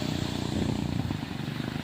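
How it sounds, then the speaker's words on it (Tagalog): A boat engine sputters and misfires, a steady close rumble with uneven pulsing and no talking over it. "palyado pa ang makina"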